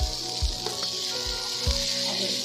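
Egg chowmein sizzles in a pan with a steady bright hiss, while a few dull thumps from stirring land at intervals.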